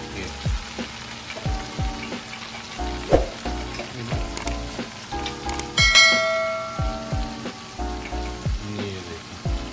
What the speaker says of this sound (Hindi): और पायों को भून लेते हैं